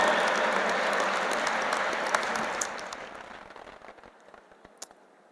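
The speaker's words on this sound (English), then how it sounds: "Please put your hands together and welcome with a big round of applause Honorable Kevin Worthen." Loud applause from a large crowd at an interfaith conference fills the room, then gradually thins out to scattered claps as it fades.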